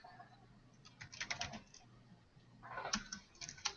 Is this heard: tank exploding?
no